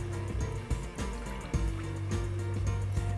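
A brass plate is rinsed with water after final sanding during finishing, giving a steady rush of running water over a constant mechanical hum with occasional soft knocks.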